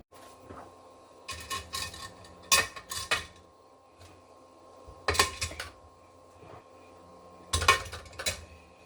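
Glass canning jars of homemade beef and barley soup clink and knock as they are loaded into a pressure canner, in several separate bursts of clatter with quiet pauses between.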